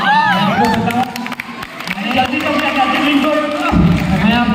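A crowd at a stand-up comedy show at a polytechnic freshers party cheers and shouts with scattered thumps and claps, loud and close, mixed with voices calling out.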